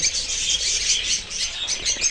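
A flock of breeding pet birds chatters and chirps continuously in a dense, bright, overlapping chorus, close and fairly loud, with no talking.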